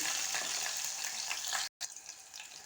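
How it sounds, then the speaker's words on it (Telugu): Cumin seeds splutter in hot oil with a bright, continuous crackle and sizzle, cut by a brief silent gap partway through, and no one speaks. "ఆయిల్ అయితే వేడెక్కిందండి జీలకర్ర చిట్టపటలాడుతుందండి"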